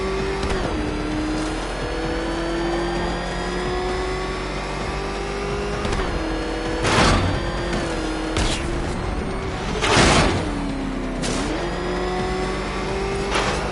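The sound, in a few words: Batmobile engine racing, from video game Batman: Arkham Knight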